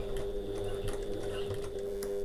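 A sewing machine runs steadily while stitching a getaway bag, a continuous close mechanical whir with a faint rhythmic needle patter throughout and no talking.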